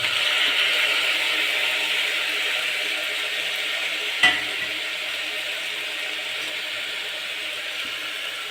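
Chopped tomatoes go into a hot frying pan for rice pulao and sizzle steadily in a broad, even hiss, with a single brief clack of a spoon midway.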